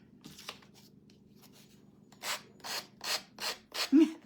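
Hand sanding a wooden sled built from paint sticks produces six rhythmic rasping strokes, close and growing louder, after a stretch of quieter light rubbing and handling.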